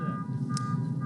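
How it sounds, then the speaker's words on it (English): A steady, piercing alarm tone sounds without a break through a baseball game broadcast, over a low murmur of crowd and ambient noise. "Somebody's going to have to turn that alarm off"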